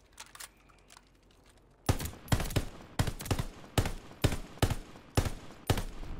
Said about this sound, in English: Bro, you can't even tap with this weapon. This is burst firing.